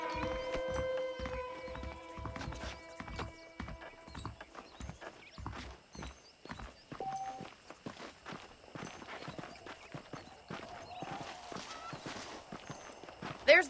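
Horses walking in Red Dead Redemption, a steady clip-clop of hooves over about fourteen seconds, with a brief whinny, game music and a voice talking over part of it.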